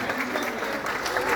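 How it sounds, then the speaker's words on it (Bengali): Applause at a film promotional event, a dense burst of clapping from a crowd that is close and loud, with a voice faintly present underneath. "হাততালি হাততালি হাততালি।"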